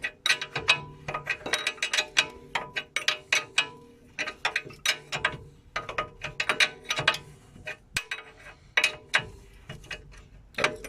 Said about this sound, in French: Je vais serrer jusqu'au moment que la clé elle rentre.